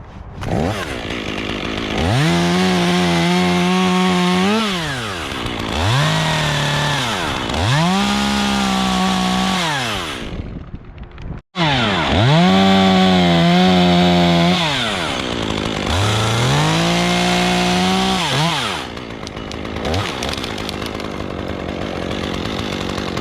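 A chainsaw cuts off a tree stub during rigging. The engine snarls loud and close, rising and falling in several revving cuts, and drops out briefly midway before roaring back.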